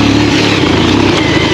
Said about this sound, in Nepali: साउन्ड मिठो खालिरहेको छ बाइकले